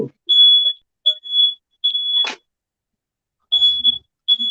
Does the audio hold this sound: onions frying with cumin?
no